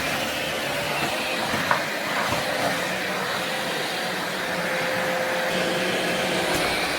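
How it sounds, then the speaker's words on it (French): A Philips 8000 Series Pet cordless stick vacuum runs over a carpet, a loud steady whirring hum with a constant airy rush and a faint high whine, close and without talk. "L'aspirateur s'adapte au tapis"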